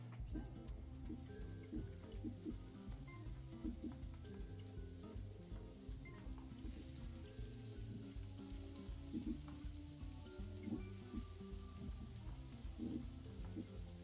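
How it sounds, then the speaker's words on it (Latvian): Onion sizzles and crackles steadily as it fries in fat in a pan, cooking alone with no talk. "Un taukos apcep sīpols."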